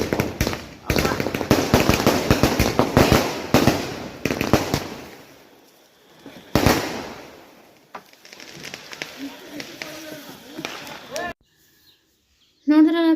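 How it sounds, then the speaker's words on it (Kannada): Diwali fireworks at a village celebration: a rapid string of loud firecracker bangs for several seconds, then a single sharp burst, followed by a quieter stretch with distant crackling, nearby birds and voices. "ಇನ್ನು ಇವಾಗ ಮೇಲೆ ಹೋಗಿ ಸೌಂಡ್ ಮಾಡುತ್ತಲ್ಲ ಅದನ್ನು ಅಂಟಿಸ್ತಾರೆ"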